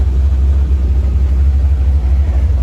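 A C4 Corvette engine runs steadily close by, a constant low rumble with a broad hiss above it and no pauses or revving over the short stretch.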